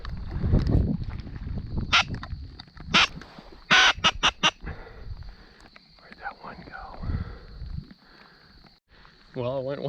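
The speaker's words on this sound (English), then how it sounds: "What are these geese doing here?" Geese honk in bursts during a rainy duck hunt with a Labrador retriever, a few loud nearby honks and a quick run of calls mixed with people talking and other outdoor sounds.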